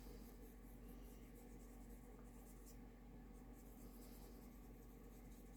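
Marker ink scribbled onto paper to fill in a stamped rose design on a handmade card, giving a steady, continuous soft rubbing scratch throughout, fairly quiet and close, with no talking.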